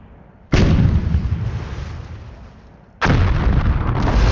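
Cannon towers fire in the video game Port Royale 2: two loud, heavy booming shots a few seconds apart, each a sharp blast with a long rumbling decay.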